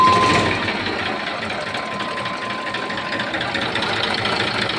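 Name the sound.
Eicher 485 tractor engine running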